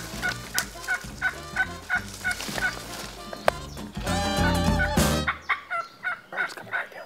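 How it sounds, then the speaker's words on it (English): Wild turkeys gobble repeatedly from a short distance beyond a hill, loud rattling bursts recurring every second or so across the whole stretch, with a denser chorus in the middle. "They're gobbling right over that knob right there."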